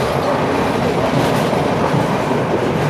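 A passenger train runs along the Indian Ocean coast near Colombo at about 53 km/h, giving a loud, close, steady rumble with rhythmic wheel clatter and no talking.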